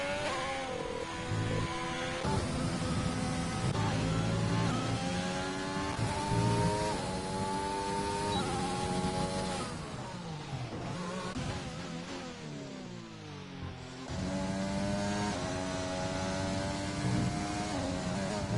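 A Ferrari race car in a Bahrain racing video game screams through the gears, its engine note rising and falling repeatedly with sweeping pitch changes and a short lull, loud and continuous without voices.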